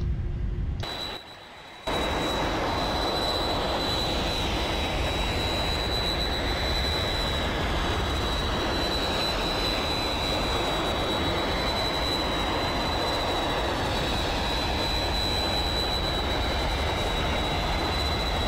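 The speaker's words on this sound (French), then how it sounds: "on va démarrer le dernier moteur. Hein. Là, il y a quatre moteurs à démarrer" Boeing 747 jet engines spinning up in Flight Simulator X, a loud, steady turbine roar with a thin high whine running through it, filling the whole stretch without talk after a brief dip at the start.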